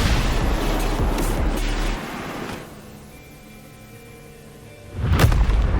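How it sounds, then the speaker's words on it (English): Explosions in a video game boom heavily in bursts at the start, fade into a low rumble, then a sharp fresh blast hits near the end. "What caused the explosion?"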